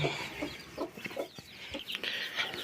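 Several incubator-hatched chickens cluck softly and chirp close by, overlapping in short irregular calls against a quiet background.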